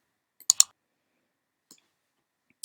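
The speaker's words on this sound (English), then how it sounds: "I'm going to type in Open Sans" A handful of sharp computer keyboard clicks, a quick double tap followed by two isolated keystrokes after pauses, close and fairly quiet against near silence.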